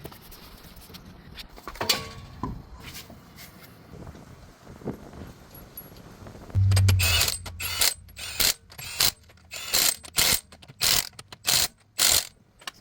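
A ratchet cranks lug nuts onto a 2014 Toyota Prius V wheel, with quieter clicks and handling early on, then loud, close, rapid bursts of ratcheting in a steady stop-start rhythm.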